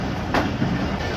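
Pakistan Express passenger train running between Dina and Rawalpindi, a steady close rumble of wheels on rails with a brief louder burst partway through, heard from on board.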